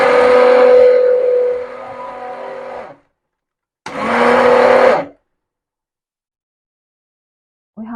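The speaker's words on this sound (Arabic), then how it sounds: "وهنضربه بالهاند بلندر" Hand blender whisking homemade yogurt mixed with boiled milk: a loud motorized whir runs about three seconds, drops in pitch, stops, then comes back for a second burst of roughly a second, with a brief restart at the end.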